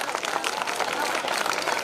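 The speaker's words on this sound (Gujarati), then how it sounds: "રઘુરામ લશ્કરી સાહેબને એકવાર તાળીઓના ગડગડાટથી વધાવી દઈશું" Audience at a cultural programme breaking into applause, a dense steady patter of many hands clapping at once, continuous and fairly loud.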